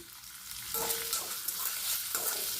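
Onion sautéing in a pan with a pinch of an added ingredient, a soft continuous sizzle with brief stirring scrapes, close but fairly quiet, no voices.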